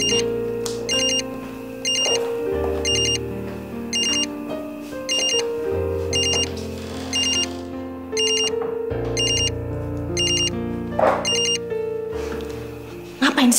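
A mobile phone rings with a repeating electronic ringtone in regular bursts over steady background music in an Indonesian TV drama scene, with no talk over it.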